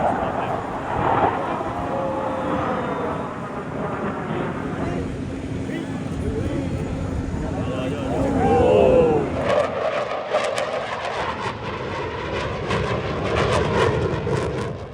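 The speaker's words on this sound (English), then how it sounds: "And finally, the Russian Knights aerobatic team appears in the sky." Jets of the Russian Knights aerobatic team roar overhead at the Dubai Airshow 2025, a loud sustained engine rumble that swells and shifts as they pass, with a voice talking over it.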